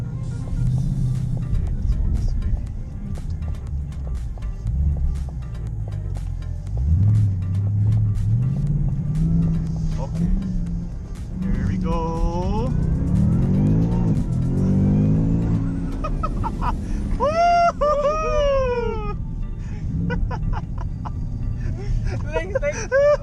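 A 2022 Shelby GT Premium's engine rumbles steadily, its pitch dropping and rising as it shifts down through gears, with people talking over it inside the cabin.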